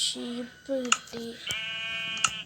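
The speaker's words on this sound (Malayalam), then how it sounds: "ഷീപ്പ് കിട്ടി." Sheep in the Minecraft video game bleat several times in quick succession, short nasal calls close and clear, with faint clicks between them.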